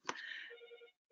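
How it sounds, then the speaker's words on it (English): A telephone rings once, faint and brief: a quick sharp onset is followed by a warbling electronic tone that stops, then starts again at the very end. "Excuse the phone."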